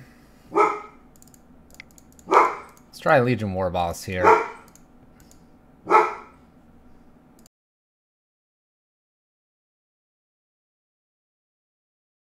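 Dog barking in a home during a Magic: The Gathering game stream, several sharp barks spaced over several seconds, mixed with someone talking.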